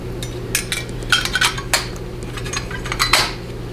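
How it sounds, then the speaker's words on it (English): A metal gasket being handled during a Ford 6R140 transmission pump assembly rebuild, giving a run of light metallic clinks and rattles, some sharper than others, close by with no talking. "Alright, now our metal gasket."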